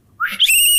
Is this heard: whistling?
yes